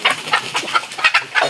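A chicken clucking close by in quick, loud bursts, several clucks in a row over about a second and a half, with no talking.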